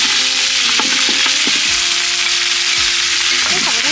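Grilled duck meat stir-fried with garlic and fat in a hot pan gives a loud, steady sizzle, with scraping stirring knocks and clatters breaking through now and then.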